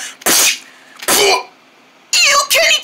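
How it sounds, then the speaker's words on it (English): A cartoon character coughs in three loud, harsh bursts with short pauses between them, the last burst doubled, heard on its own without talk. "He just coughed on me!"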